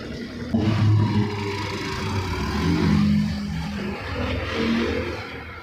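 A car engine revs and pulls steadily on a test drive after a clutch lining replacement, rising and easing in pitch as the vehicle accelerates, heard from inside at close range.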